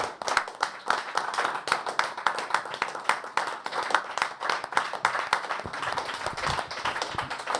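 A church congregation breaks into steady applause, many hands clapping densely and continuously at moderate distance, with no voices rising above it.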